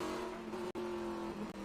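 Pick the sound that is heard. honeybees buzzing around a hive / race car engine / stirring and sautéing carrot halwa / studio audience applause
race car engine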